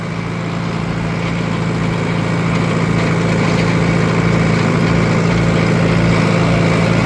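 A tractor engine runs steadily while planting triticale in a field, a loud, constant low drone with a strong hum that holds evenly throughout, no talk over it.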